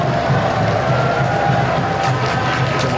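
A large stadium crowd at an AFC U23 football match between Vietnam and South Korea applauds and cheers in a loud, unbroken roar with pulsing low beats.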